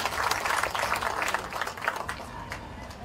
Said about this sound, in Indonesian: Kita beri tepuk tangan untuk Pak Kobalen.